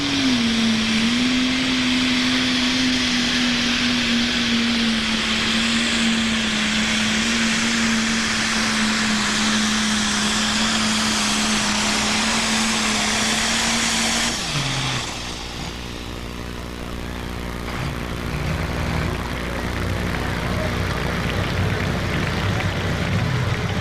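A turbocharged pro stock tractor with a roughly 1,000-horsepower stock block engine, at a 1994 super stock pull in Imlay City, Michigan, roars loud and close at a steady high pitch, then abruptly drops to a lower, rougher rumble.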